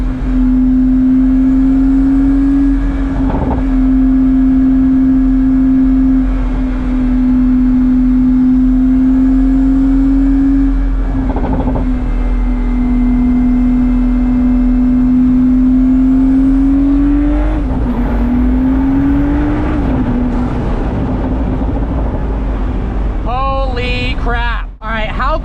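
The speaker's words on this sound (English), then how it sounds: "One last acceleration pull." A Pagani Huayra with its AMG V12 pulling hard, a loud sustained engine drone held steady through a long acceleration run, rising at gear changes and ending in a sharp revving sweep.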